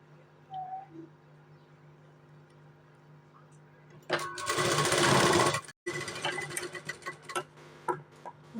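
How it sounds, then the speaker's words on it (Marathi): A sewing machine stitches folded blouse sleeve fabric, a loud, fast mechanical rattle that runs for about two seconds, stops briefly, then resumes in shorter uneven bursts after a quiet stretch. "त्याला आता मी फोल्ड करून घेणार आहे फोल्ड करून शिलाई मारणार आहे"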